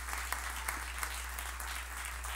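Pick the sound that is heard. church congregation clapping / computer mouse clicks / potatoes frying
church congregation clapping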